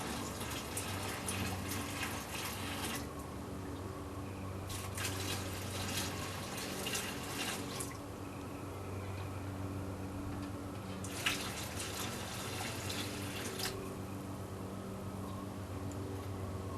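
Water pours from a tap into a homebrew kettle while brewing a New England IPA, three separate bursts of steady running and splashing over a constant low hum, fairly close.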